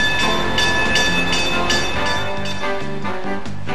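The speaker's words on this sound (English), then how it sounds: "a few bells are heard and their train starts down to the depot" A cog railway train on the Manitou and Pike's Peak Railway rumbles and clatters steadily nearby, with faint ringing bell tones woven through the mechanical noise.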